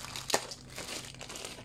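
A plastic packaging bag for a GoPro 10 battery crinkles close up, with one sharp crackle and then a steady run of softer rustling as it is handled.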